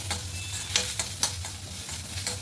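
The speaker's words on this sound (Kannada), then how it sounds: "ಕೊತ್ತಂಬರಿ ಸೊಪ್ಪು ಮತ್ತು ಇದು ಫ್ರೈ ಆಗ್ತಿದಲ್ಲ ಇದನ್ನ ಮತ್ತು ಕಾಯಿ ತುರಿ" Coriander leaves and grated coconut frying in a pan with garlic and cumin, a steady close sizzle broken by several sharp scraping stirs of a spoon, no talking.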